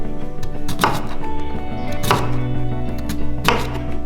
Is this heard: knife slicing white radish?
yes